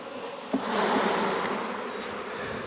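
Honey bees shaken off a brood frame fill the air with a dense, close swarm buzz, loud and steady for the whole moment with a faint knock near the start and no talking.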